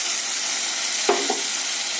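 Soaked cumin and coriander powder paste sizzling in a frying pan for a fish curry, a steady close hiss with a brief sharper spatter and a second small burst as the paste goes in, no voices.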